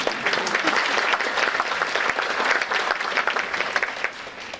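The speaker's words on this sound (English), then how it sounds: "Yeah, we could clap for them too." An audience claps steadily at a school seventh grade winter concert, a dense, even wash of applause that fades slightly at the end, with no talking over it.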